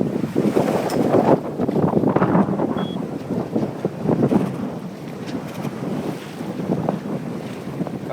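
A sailboat rolls through big waves in about 20 knots of wind on the North Channel, with gusty wind buffeting the microphone and surging washes of water rising and falling in uneven swells.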